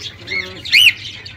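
An albino lovebird gives a short chirp, then a sharp, shrill squawk close by, with quiet background in between.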